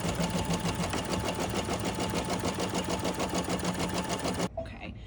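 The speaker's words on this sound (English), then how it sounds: "our first step is going to be directly stitching onto our stabilizer for placement" An embroidery machine stitches a placement line onto stabilizer for a 5x7 design, a fast, steady, rhythmic needle clatter heard close up that stops abruptly near the end.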